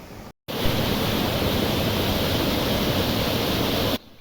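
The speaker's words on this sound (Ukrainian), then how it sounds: "є невеличкий водопад Кам'янка на одноіменній річці Кам'янка" Steady broadband rush of falling water from a small single-cascade waterfall about 6-7 metres high on the Kamianka river in the Carpathians, constant and close, after a brief silent gap at the start.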